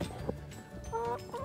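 Backyard chickens cluck a few times, close by, in short bursts over a soft bed of background noise.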